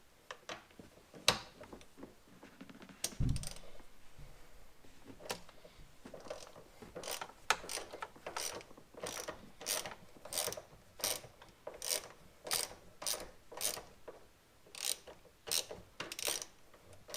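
Ratchet wrench fitted with a large T50 Torx socket working on a BMW X5, with a steady run of sharp clicking pawl strokes following a few isolated knocks, close and loud.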